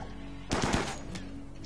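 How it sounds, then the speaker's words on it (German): A short burst of rapid gunfire from the colony-building video game RimWorld, a quick volley of several cracks followed by a fainter trailing shot over a steady game background. "fängt an zu schießen"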